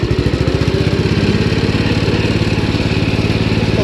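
A 1973 Gravely 814 walk-behind tractor's engine running steadily, a loud, close, rapid pulsing putter with even rhythm and no talk.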